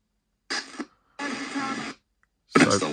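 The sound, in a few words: sweep radio ghost box (ITC device) scanning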